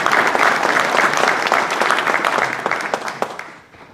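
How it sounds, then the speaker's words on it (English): An audience at a Veterans Day ceremony in Belleville, Illinois claps in a dense, loud round of applause that holds steady, then thins and fades out near the end. "let's give them one more round of applause"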